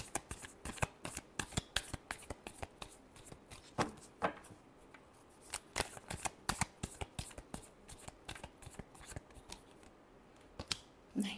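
Tarot cards are shuffled by hand in a close, steady run of crisp riffling snaps and flicks, continuing alone without talk.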